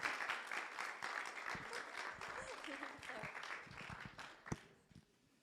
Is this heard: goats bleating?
no